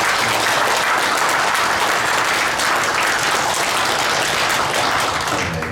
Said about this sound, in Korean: 우리 예불련 모든 분들에게 박수 한번 보내주시기 바랍니다